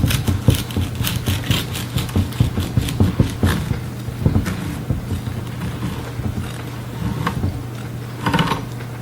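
A knife saws through a freshly baked cranberry walnut loaf, with repeated rasping strokes close by that grow sparser and quieter toward the end.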